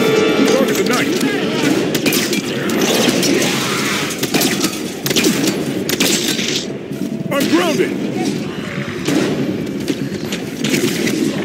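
Sci-fi gunfire in the shooter Halo 5: Guardians, with dense bursts of shots, cracks and booms layered over a continuous battle din, with voices talking at times.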